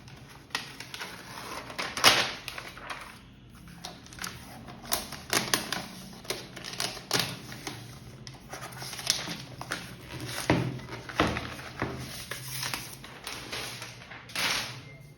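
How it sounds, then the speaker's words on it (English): The paper wrap on a MacBook Pro cable is unwrapped and crinkled up close. Soft rustles and sharp crackles come in uneven bursts over quiet room tone, with no talking. "let me be quiet for a few seconds so that we all can enjoy the unwrapping sound."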